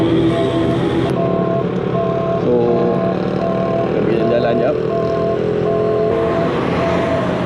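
Dense road traffic heard from an electric motorbike on a busy holiday morning: a loud, continuous drone of many cars rolling past close by, with engine rumble and tire noise.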